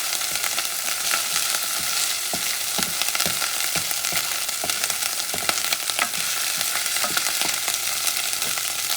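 Beef fat and peppers sizzle steadily in a pan as a sofrito base for beef chili, a dense crackling hiss with scattered pops and occasional stirring scrapes, close and continuous with no talking.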